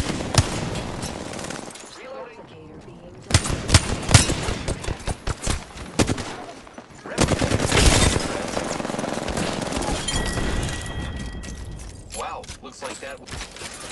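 Rapid automatic gunfire bursts in an Apex Legends battle on the World's Edge map, loud rattling volleys with brief pauses and mechanical clatter, mixed with game sound effects and voice chatter.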